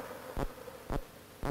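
Bees fan their wings inside a hive, a soft continuous buzzing hum broken by three evenly spaced louder bursts, close and with no talking.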